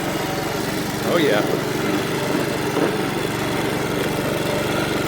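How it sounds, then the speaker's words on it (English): A Honda HRN216 lawn mower engine fires up and runs at a steady, loud drone throughout, with a brief surge near the start and a voice speaking briefly over it. "this is what I love best about this mower, is it starts in one pull"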